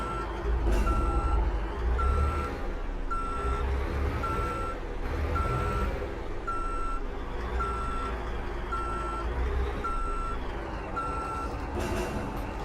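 Repeated reversing beeps from a truck in Euro Truck Simulator 2, evenly spaced tones about once a second over a steady diesel engine rumble.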